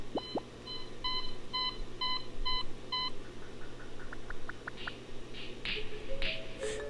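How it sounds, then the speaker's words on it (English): A series of alarm tones from an iPhone to-do app: short repeated beeping bursts in a quick rhythm, then softer clicks and a few brief chirpy whistle-like tones, clear and close with no talking. "there are a variety of alarm sounds if you set the alarm"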